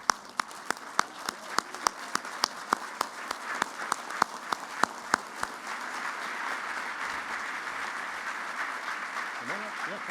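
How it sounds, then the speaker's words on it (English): Standing audience at a regional assembly and leadership awards event breaks into applause, beginning with a few distinct sharp claps that swell into continuous, fairly distant clapping. "big round of applause"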